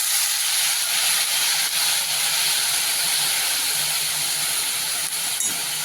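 Soaked chana dal sautéed in a pan, giving a steady, loud, close hiss of sizzling that holds evenly throughout with no pause and no talk.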